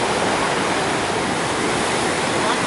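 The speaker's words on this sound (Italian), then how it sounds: "Vi lascio sentire il rumore dell'acqua." Atlantic Ocean waves wash over rocks on the Barbados coast, producing a steady, loud, broadband rush of churning surf that continues unbroken throughout, with no voices.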